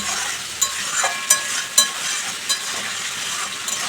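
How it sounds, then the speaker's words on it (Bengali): A thin Bengali fish curry with ridge gourd and potatoes, made with bata fish, simmers in a pan while being stirred: a steady sizzling hiss broken by a few light scraping taps of the spoon, with no talking. "আরও 2 মিনিট আমি একটু নাড়াচাড়া করে নেব।"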